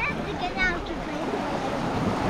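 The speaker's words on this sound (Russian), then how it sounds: "Сегодня море спокойное." Calm sea surf along the Odesa shore, a steady soft wash of gentle waves with some wind noise on the microphone, continuous and fairly close, with no talk over it.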